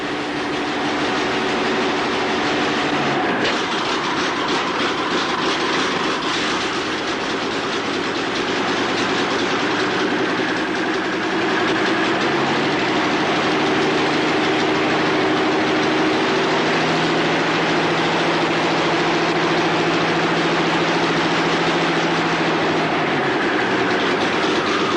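Revolver Cam (Dynacam) aircraft engine running near cruise speed, a loud, steady mechanical roar with a constant hum and rapid rattling throughout, no talk.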